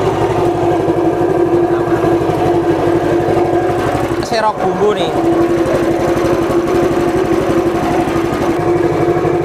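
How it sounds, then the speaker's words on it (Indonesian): A loud motorised grinder drones steadily throughout, grinding dried chili with a dense mechanical buzz, briefly dipping once, while a person speaks over it. "Nah, kita caranya menggiling dulu ya. Oke, kita nyalakan biasa."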